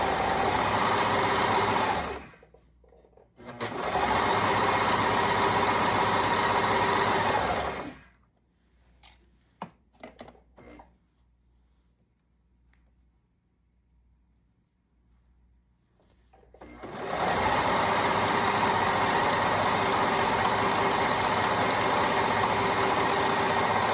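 A serger overlocks the bottom hem of a knit foldover top, running in two loud, steady whirring bursts separated by a pause filled with faint handling clicks and rustles, then starting up again.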